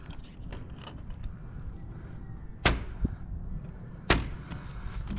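Chalk line snapped against a roof deck where two roofs intersect, two sharp, close slaps about a second and a half apart over a low background of rustling and handling, with no talk.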